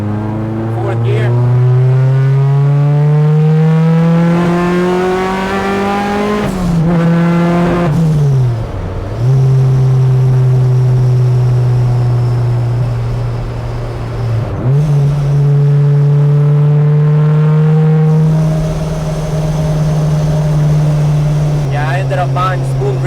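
A 500 bhp Honda Civic EK street car with a Rotrex-supercharged K24 engine accelerates hard, very loud and close. The engine note climbs through the gears, broken by two quick shifts, and carries a whining supercharger tone.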